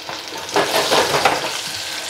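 Battered pear wedges deep-frying in oil in a fryer give a steady, dense crackling sizzle that swells after the first half-second and holds fairly loud throughout, with no talk.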